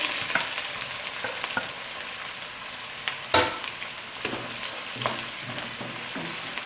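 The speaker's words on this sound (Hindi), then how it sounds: "अब इसमें एक मीडियम साइज़ की प्याज चॉप की हुई ऐड करेंगे।" Chopped medium-sized onion fries in hot oil in a pan for a dhaba-style white lobia masala. A steady close sizzle runs throughout, broken by occasional clicks and scrapes of stirring.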